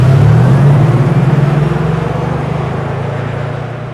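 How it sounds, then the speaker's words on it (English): A synthetic driving sound from an all-electric Mercedes G-Class, a steady low tonal hum with a gently shifting pitch, loud and close at first and then fading slowly over a few seconds, with no talk. "we will delight you with the very emotional G-Class specific driving sound for this all-electric model"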